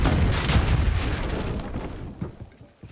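A booming blast from the Confringo fire spell in Hogwarts Legacy, heavy low rumble at the start that rolls and tails off over about three seconds, with a few scattered pops near the end.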